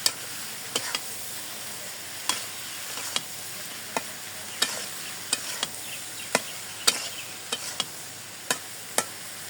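Fish, chopped onion and eggplant frying in a pan, a constant broad sizzle close by, punctuated every second or so by sharp scrapes and taps of a spatula stirring them.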